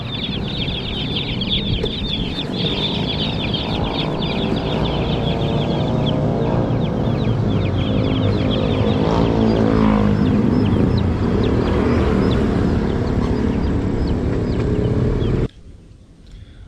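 Chickens and chicks cluck and peep continuously at close range, a dense steady chorus of overlapping calls that stops abruptly near the end.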